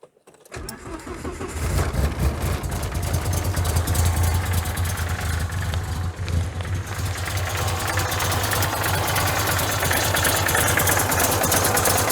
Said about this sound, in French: Donc là je vais démarrer et puis